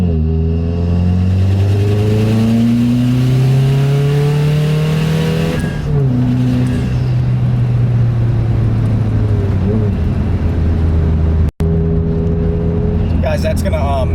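Stage 3 tuned 2016 Subaru WRX engine with 100,000 miles, revving loudly nearby with rising and falling pitch sweeps and a sustained roar. A brief dropout occurs near the end.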